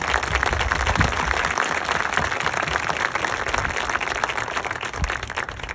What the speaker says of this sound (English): So can I please have a round of applause for this?